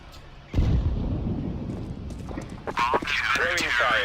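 In the video game CS:GO, a grenade explodes with a sudden loud boom that rumbles on for seconds, followed by honking, warbling game effects and a voice calling out briefly.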